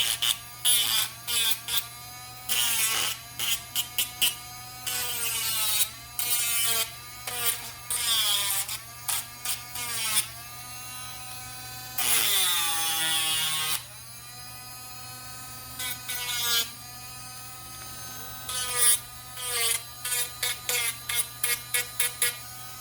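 A handheld power drill whirs over the edges of a large resin box in repeated short bursts, stopping and starting with an uneven rhythm, close and fairly loud throughout.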